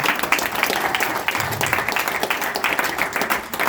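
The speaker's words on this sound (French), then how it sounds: "je crois qu'on peut l'applaudir" Applause from the audience at a business leaders' meeting, a dense, even wash of many hands clapping at steady loudness through the whole stretch.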